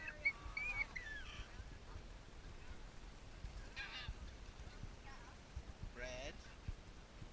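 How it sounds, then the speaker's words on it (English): Geese honking near a pond while being fed bread, a few short nasal honks scattered across a quiet outdoor background, fairly faint, with people talking nearby. "Look, the birds are here."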